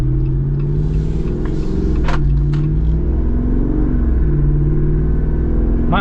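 A 2023 Jeep Wrangler Rubicon 392 V8 engine idles with a deep burbling rumble, revving up briefly a couple of times before settling back to idle.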